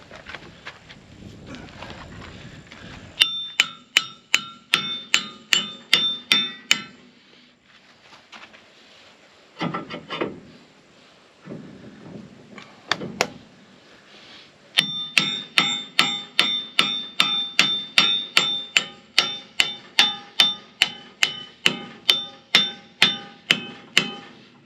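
Metal hammer blows ring out in rapid bursts of repeated strikes while driving a bushing into a bulldozer, separated by short pauses and scraping, loud and close.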